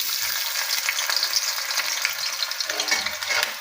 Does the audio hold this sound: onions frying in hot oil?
yes